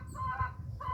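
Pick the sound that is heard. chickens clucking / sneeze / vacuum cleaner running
chickens clucking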